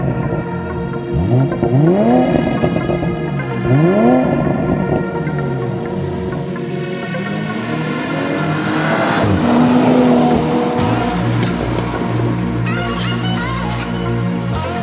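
A BMW Z4 M40i Steptronic roadster accelerates hard on the road, its engine note rising through the gears in repeated sweeps with brief shift breaks, loud and close throughout with no talk.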